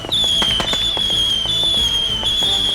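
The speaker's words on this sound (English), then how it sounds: "Oh no, your truck was full of fireworks." Fireworks going off inside a truck loaded with them, in rapid irregular bursts of loud cracks and pops, a constant high whistle running above them throughout, crowded and continuous with no talking.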